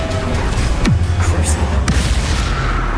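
A Bombarda explosion spell bursts in the Hogwarts Legacy video game, a loud booming blast with a falling low rumble among dense, continuous game effects and music.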